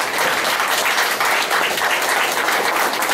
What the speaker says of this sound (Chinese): 大家因为何瑞元姐，甲何瑞元呐拍手甲鼓励